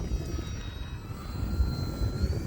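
A radio-controlled model airplane comes in to land in windy conditions, its steady thin motor whine faint and distant under rumbling wind noise.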